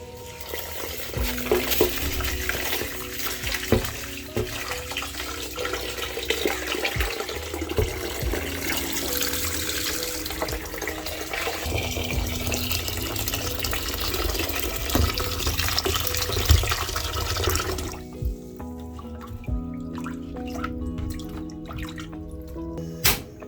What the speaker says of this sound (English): I'm going to start off by washing my rice 2 to 3 times till the water runs clear